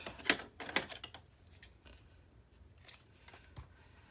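Scissors trim lace on a binder page, a few crisp close snips spaced irregularly, followed by softer rustling and handling.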